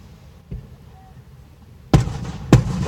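Fourth of July fireworks bursting before they clear the launch canister: a faint thump, then two loud, sharp booms about half a second apart with crackling tails, heard close by.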